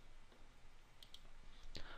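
A computer mouse clicks during Rhino 3D car surface modeling, with two quick clicks followed by a third, all faint and close against a quiet hiss.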